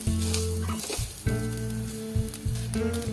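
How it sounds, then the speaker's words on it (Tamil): Ingredients frying in oil with a couple of curry leaves, stirred without pause, giving a steady close sizzle with periodic scraping and stirring bursts, mixed with a low background hum and no talking. "எண்ணெய் விட்டுட்டு இதை நல்லா வறுத்துடலாம் கை விடாம இது வறுத்துட்டு போதே ரெண்டே ரெண்டு கருவேப்பிலையும் சேர்த்துட்டு"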